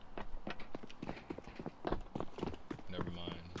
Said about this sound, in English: They actually hear my teammate stomping.